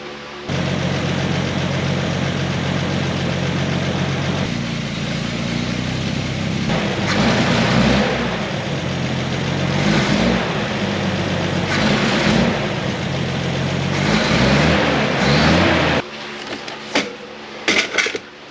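A carbureted Toyota Land Cruiser engine runs steadily up close, idling and then revving in several surges before stumbling toward stalling, ending with uneven sputters and brief gaps.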